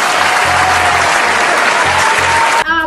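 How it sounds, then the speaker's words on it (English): Sustained applause from a crowd, loud and steady for nearly three seconds before cutting off abruptly. "give me a round of applause."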